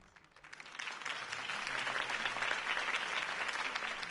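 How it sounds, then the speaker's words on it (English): Applause from a crowd swells after a brief quiet start, then holds as a dense, steady clatter of many hands clapping. "could have heard that applause"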